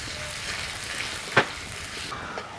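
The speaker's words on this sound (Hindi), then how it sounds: "अब हम डाल देते हैं इसमें प्याज। प्याज को भी जलाते हुए ब्राउन कलर का कर लेते हैं।" Onions frying in a pan until browned for a spicy drumstick curry: a soft, steady close sizzle with one sharp clink of a utensil midway, and no talking.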